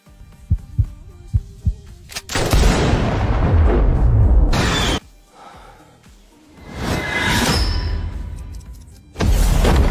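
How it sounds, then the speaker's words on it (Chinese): An anti-materiel sniper rifle fires an armor-piercing round: a few thudding heartbeat-like pulses give way to heavy, booming blasts with long rumbling decay, loud and dramatic, with a final abrupt burst. "这可是反器材狙击枪，就算他有通天本事，也躲不过这一发穿甲弹"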